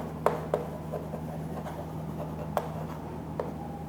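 Chalk or marker tapping and scratching on a board during a physics lecture, a few sharp ticks and short strokes over a low room hum, no talk.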